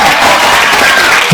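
An audience at a Teachers Day event breaks into loud, close clapping that fills the brief moment as a continuous wash of applause.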